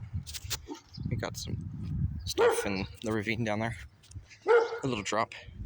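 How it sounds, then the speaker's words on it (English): A dog barks repeatedly at a distance on a street beside an old railway right of way, its barks overlapping with someone talking over them. "Sorry about the dog."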